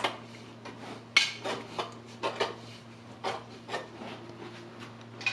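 Bread dough for Bulgarian Christmas bread is mixed with warm milk in a bowl, giving a series of soft, irregular scraping and rubbing strokes, fairly close and quiet, with a low steady hum underneath.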